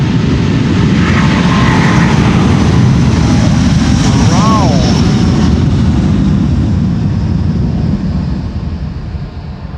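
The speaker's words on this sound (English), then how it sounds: "Also a nice basic growl in the engine sound of the A330neo." A loud, roaring Airbus A330neo jet engine rumble at takeoff with a deep growl, close and sustained before easing slightly near the end, at Schiphol Airport's Polderbaan runway.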